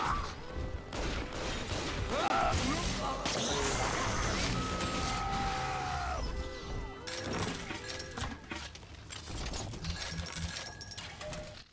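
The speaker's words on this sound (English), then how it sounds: "So this rivet gun is pretty nice" Rivet gun firing in a first-person video game, a run of loud mechanical bangs and crashes with metallic impacts, dense through the middle and trailing off in scattered shots, with game effects and a faint voice underneath.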